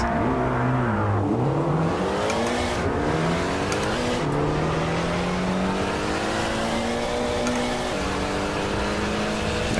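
A speeding car in a racing video game roars past, its engine note sweeping in pitch as it revs and shifts, loud and continuous from start to finish with no talking.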